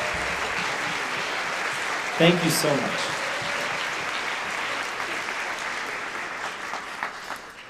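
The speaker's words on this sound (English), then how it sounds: "would you please stand and get a big round of applause" Audience at a school spring band concert applauds parent volunteers, a sustained wash of clapping from a large room that runs the whole time, with a brief spoken thank-you rising above it early on.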